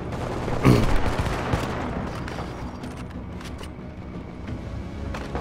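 Gunfire in The Division, played on Xbox One: a loud, close burst of shots opens, then scattered sharper reports and distant pops continue through the rest.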